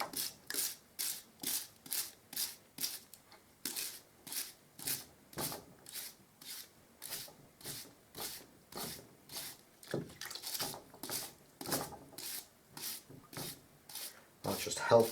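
An old wire brush scrubs dried paint from the bristles of a Hamilton Prestige pure bristle paintbrush near the ferrule, giving a fast run of close, regular rasping strokes, each a short burst of scratchy noise with brief gaps between.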